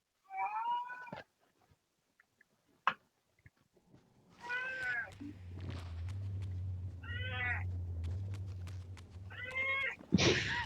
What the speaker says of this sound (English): Cat is screaming.